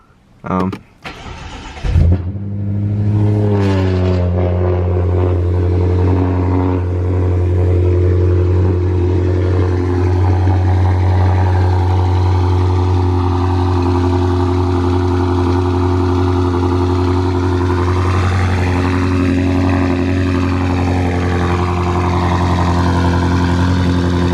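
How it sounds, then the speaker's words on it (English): A BMW F10 M5 with a straight-piped exhaust cold-starts: a brief crank and sharp catch, then a loud, rising flare that settles into a deep, steady, rumbling idle close by, with revs swelling briefly near the end. "this is gonna be the cold starts with the new exhaust setup"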